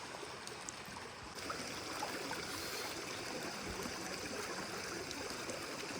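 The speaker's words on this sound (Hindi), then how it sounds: "2 पहाड़ियों के दरमियान दरिया है, और ये इतना ठंडा पानी होता है ना" A cold river runs between two hills in Azad Kashmir, giving a steady, soft rushing and trickling wash of water that holds evenly throughout at low level, with no voices.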